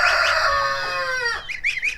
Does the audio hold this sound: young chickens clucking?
yes